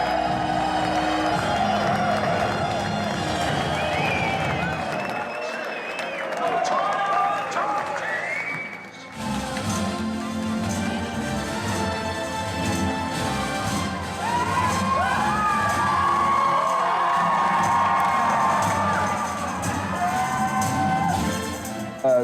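Crowd roars and cheers continuously before a show entertainment entrance, loud and sustained with whoops and shouts, briefly dipping midway then surging again, with voices mixed throughout.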